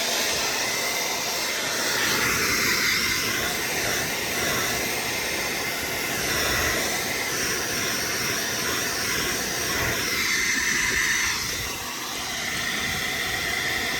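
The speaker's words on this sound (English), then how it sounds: "I'm gonna use a hair blower, dry it off." A hair blower drying a Plasti Dip coat on a Honda car emblem roars with a steady, loud rushing hiss of air that shifts slightly as it moves, with no voices.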